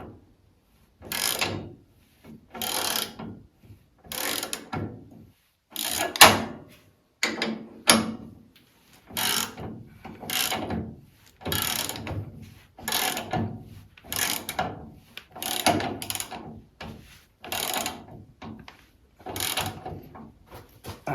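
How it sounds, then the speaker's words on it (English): A bushing is worked into the stub axle of a 1974 Bolens HT20 garden tractor with repeated short ratcheting, clicking mechanical strokes, each burst a second or so long and evenly spaced, close and moderately loud, with no talk. "At least using this method you get a good feel for how the bushing is going in."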